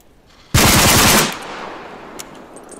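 Close automatic weapon fire in the military shooter game Arma 3 with JSRS3 Dragonfyre sound mod: a loud sustained burst of rapid machine gun shots lasting under a second, followed by a fading echo and faint distant shots.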